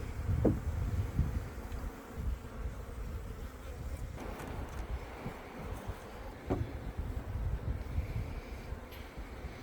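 Honeybees buzz around an opened beehive on a windy, chilly day, a steady low drone close to the microphone, mixed with gusting wind noise and a few brief louder passes.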